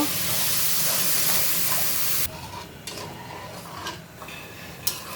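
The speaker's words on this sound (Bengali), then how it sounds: "দেখো ঝোলটা সুন্দর ফুটে উঠছে" Curry gravy for a small hilsa and new flat bean dish bubbling in a pan, a steady loud simmering hiss that drops to softer intermittent bubbling and spitting halfway through, with no talking.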